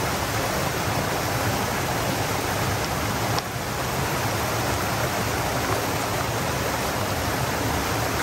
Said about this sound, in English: I can just see a bigger waterfall over there